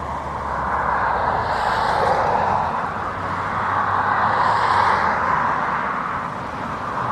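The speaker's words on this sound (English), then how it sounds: "Inbound is our A330 from Seattle" An Airbus A330 airliner inbound from Seattle on approach to a windy Dublin Airport, a steady broadband engine roar that swells twice, rising and fading as it passes, heard alone at moderate distance.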